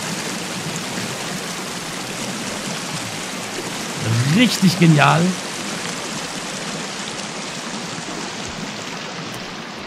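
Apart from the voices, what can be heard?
loud waterfall in video game Sons of the Forest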